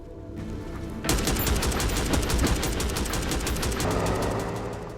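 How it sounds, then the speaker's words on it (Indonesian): Gunfire erupts in an action film after a brief quieter lead-in, a dense, loud barrage of rapid shots that rattles on continuously, with no talk over it. "Sialnya granat tersebut tidak meledak, yang membuat Fergus langsung menyerang John dengan tembakan."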